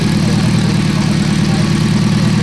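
A Ferrari Testarossa engine idles steadily at close range, a deep even drone with no breaks.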